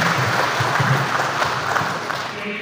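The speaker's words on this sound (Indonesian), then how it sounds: "Terima kasih, tepuk tangan untuk kita semua." Applause from an audience at a zero bullying movement declaration in Kubu, Kubu Raya Regency, a dense, steady clatter of many hands that holds evenly throughout and tapers slightly at the end.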